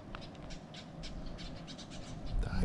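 Birds call outdoors beside Green Valley Lake. Repeated short caws, crow-like, rise over a low rumbling wind background at moderate distance.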